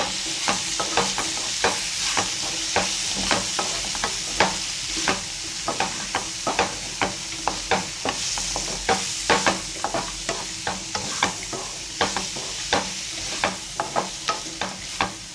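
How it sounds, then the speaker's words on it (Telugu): Coriander stirred into frying cluster bean (gokarakaya) curry, with quick repeated metallic scrapes of a spoon against the pan over a soft continuous sizzle. "కొత్తిమీర అనేది వేస్తున్నానండి. వేసేసుకొని ఇది అనేది కలిపేసుకుందాం"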